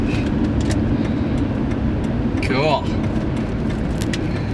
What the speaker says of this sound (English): Driving on the highway.